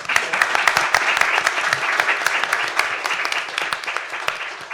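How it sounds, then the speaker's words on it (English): Audience applause at an Ada Lovelace Day 2019 panel discussion, dense continuous clapping from a sizable crowd with distinct individual claps standing out, loud and sustained, with some voices underneath. "I'll take that round of applause as covering all of those groups"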